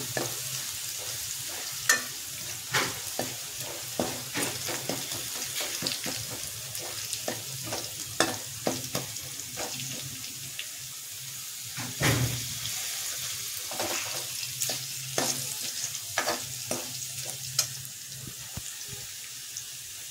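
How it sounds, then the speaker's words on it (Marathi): Garlic fried in oil until reddish for kadhi pakoda, a constant close sizzle with frequent sharp scraping and clinking stirs against the pan across a long stretch, no speech. "या पद्धतीने लसूण आपल्याला थोडासा लालसर करून घ्यायचा आहे"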